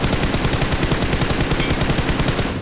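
Rapid automatic gunfire from the mobile battle royale game BGMI, a loud continuous burst of evenly spaced shots lasting a couple of seconds before cutting off.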